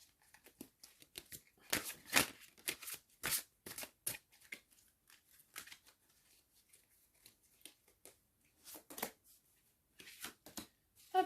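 Fairy tarot cards drawn from a deck, a quiet series of papery flicks, slides and soft snaps scattered unevenly, close by.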